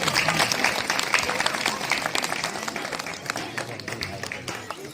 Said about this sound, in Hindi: ताली बजा के सभी स्वागत करें।